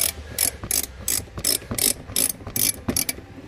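A hand ratchet clicks in quick bursts while unbolting a part on a car, about a dozen sharp rasping strokes in uneven rhythm, close and clear.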